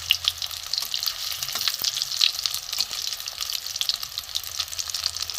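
Soybean balls sizzle steadily in hot oil, a dense close crackle with a few faint knocks from turning them, no talking.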